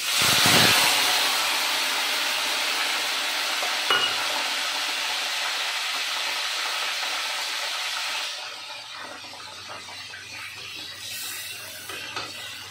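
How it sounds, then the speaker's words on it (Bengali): Tomatoes dropped into a hot tempering of spices set off a loud, close sizzle that fries steadily while being stirred, then quiets to a softer hiss partway through. "এবার এই যে এই ফোড়নটা হয়ে গেছে, এবার টমেটোটা দিয়ে দেবো।"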